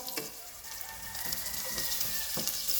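Garlic browns in a pan with a bright, continuous sizzle, fairly soft, broken now and then by light stirring scrapes.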